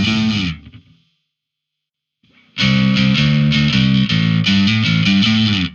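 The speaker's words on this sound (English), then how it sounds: "With the boost that I had after the distortion, it got pretty harsh." Distorted electric bass run through a Darkglass Anagram, with an EQ boost placed after the distortion giving a harsh, bright tone; one sustained note fades, a short silence follows, then a loud burst of repeated, gritty notes.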